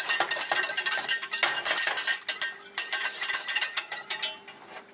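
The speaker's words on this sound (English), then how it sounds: "Make sure you whisk it really well still." A whisk beating a milk and flour sauce for double cheese eggs benedict, quick metallic clinking strokes against the bowl, close and steady, slowing near the end.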